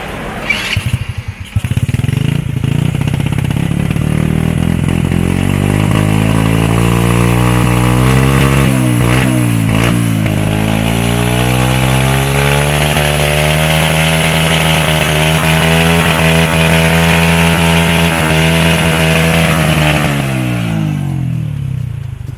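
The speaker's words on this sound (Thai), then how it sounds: "ตอนนี้เราจะใส่กล้องเดิมแล้วก็ติดเครื่องให้ฟังเบิ่งกันก่อนเนาะ" A Honda Wave 100 S motorcycle engine with its stock exhaust starts and idles close by, holding a loud, steady droning putter with slight pitch wavers before it cuts off near the end.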